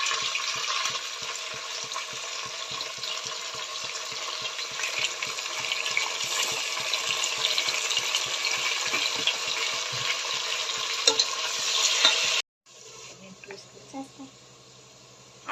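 Onions and tomatoes fry in a pan for vegetable biryani, a continuous loud sizzle with rhythmic spoon strokes, then a sudden drop to quieter sound near the end.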